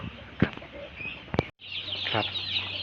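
Newborn chicks in a rearing coop on a Thai village chicken farm chirp and peep, with brief clucks and a thump early on, then a denser cluster of high cheeping continues close by.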